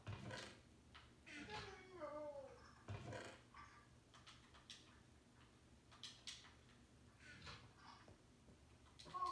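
A cat in a video game meows several times, the calls rising and falling. Muffled voices, ticking and other background noise sit underneath at low volume.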